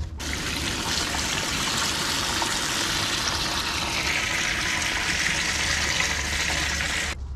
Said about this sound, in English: we're ready to start filling our container with some water.